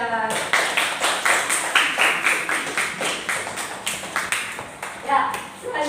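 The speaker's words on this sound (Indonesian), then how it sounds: "beri tepuk tangan untuk kelompok 3" A small classroom group claps in a steady rhythm, fairly close, with voices speaking over the clapping throughout.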